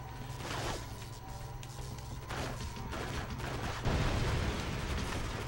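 Sustained enemy gunfire in the video game Area 51, rounds tearing through a tarp, dense and loud with rumbling bursts and no talk.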